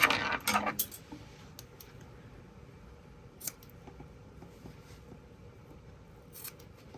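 Scissors snip through stretched bra fabric during a repair, with a quick burst of crisp cuts at the start, followed by a few faint isolated snips and handling clicks against quiet.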